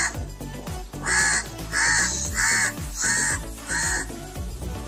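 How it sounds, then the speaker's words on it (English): A crow caws five times in a loose rhythm, harsh and loud, close by over faint background music, with no speech. "The sound of crow is."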